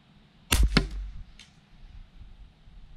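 A rifle shot is fired downhill at a target, a single sharp close crack followed by a brief echo and then quiet outdoor ambience.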